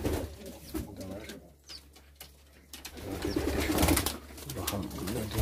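Pigeons cooing in a loft where young birds are kept, several low rolling coos overlapping close by, with a quieter lull in the middle and no speech.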